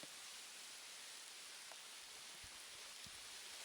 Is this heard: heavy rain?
yes